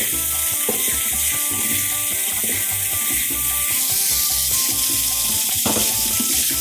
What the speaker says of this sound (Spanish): Vamos a freír el arroz primero.